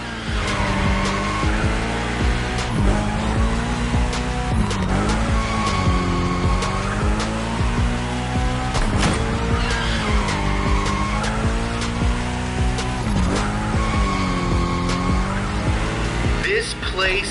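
A car drifting, its tires squealing in long, wavering, loud screeches over a revving engine that rises and falls repeatedly, with no talk.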